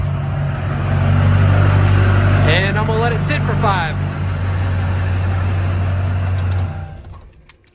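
A Duramax diesel engine in a Silverado pickup idles steadily after being started, a loud, even low drone throughout, with someone speaking briefly over it before the sound fades near the end.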